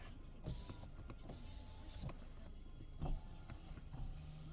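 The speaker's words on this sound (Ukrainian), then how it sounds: "Склопідйомники в нас працюють" Electric power windows of a Skoda Octavia A7 running, a steady low motor whir inside the car with a few soft clicks and thumps as the glass moves, no talk.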